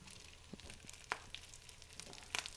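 Browned bacon sizzling in a pan as its fat renders out, a soft steady crackle with scattered small pops and occasional louder spits, close and fairly quiet with no talking.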